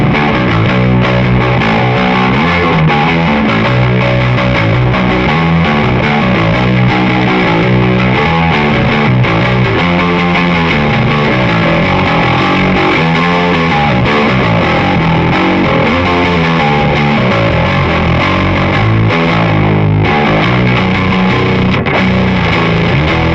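Electric guitar played through an X Drive overdrive pedal with its knob set at noon, giving a steady, dense driven tone with sustained chords and riffs throughout, loud and continuous with no talking.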